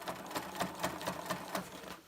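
A sewing machine stitches a jacket sleeve, giving a quick, evenly pulsing needle chatter at a steady rhythm, moderately quiet and close, with nothing else over it.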